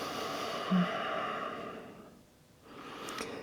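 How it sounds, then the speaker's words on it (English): Slow, mindful breathing during a yoga stretch, a soft airy exhale that fades into a brief quiet before the next breath begins, close and gentle with no speech. "let's stay here for 5 slow mindful breaths"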